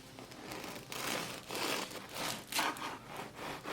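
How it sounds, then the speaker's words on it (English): Knife sawing through a loaf of bread for homemade garlic bread, a series of close, rough crunchy strokes in an uneven back-and-forth rhythm, with no talking. "So I'm going to keep cutting the bread same way."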